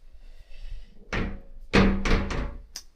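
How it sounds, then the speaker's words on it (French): Two shower doors are pulled shut in a Netherlands holiday lodge, giving a run of four knocking thuds and slides, close and fairly loud, after a faint hum. "Donc la douche, il faut tirer les deux portes comme ça."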